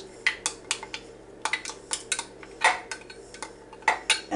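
A utensil stirring meatball sauce in a metal pot, clinking and scraping against the sides in sharp, uneven strokes, close and clear, with no talking.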